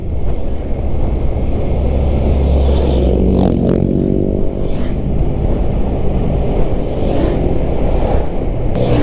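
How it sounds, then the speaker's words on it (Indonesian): Heavy holiday traffic on a Sumatra highway, a loud continuous road roar as many motorcycles and cars pass close by, with occasional engine revs and passing whooshes standing out. "Emang dari tadi motor semua sih."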